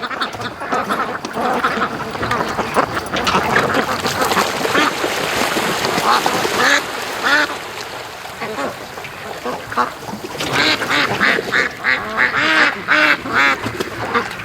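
Muscovy and other ducks on a lake quack and call repeatedly at close to middle distance, with faint water and boat noise and some talk in between.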